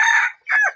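A wild junglefowl rooster crows nearby in two quick, loud bursts with a brief gap between them.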